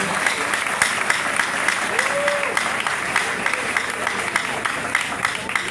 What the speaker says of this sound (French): je vous demande un applaudissement avant de continuer